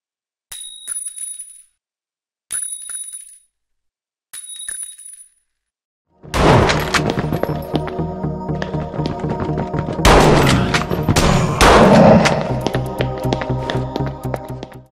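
Three sharp metallic rings open the sequence, then a dense burst of video game shotgun blasts with pump-action clacks and scattered shells clinking on the ground, loud and layered with no voices.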